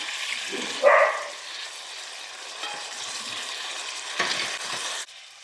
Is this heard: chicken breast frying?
yes